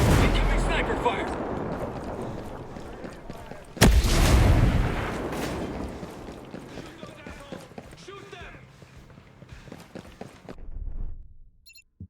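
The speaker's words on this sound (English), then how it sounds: "Incoming sniper fire." A single sharp, booming sniper shot cracks out mid-scene in the video game Ghost Recon Breakpoint, amid rumbling game noise and a voice talking, before the sound fades to a quieter tail.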